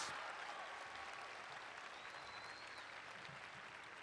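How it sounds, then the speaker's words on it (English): Applause from the audience at a high school graduation ceremony, a broad steady clapping that sounds fairly distant and quiet, tapering slightly as it continues, with no speech over it. "Let's give them a round of applause, ladies and gentlemen."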